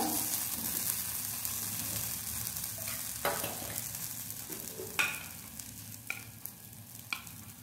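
Masala dosa frying on a hot pan as the potato filling is spooned on, a steady low sizzle with several sharp scraping and tapping clicks of a utensil against the pan.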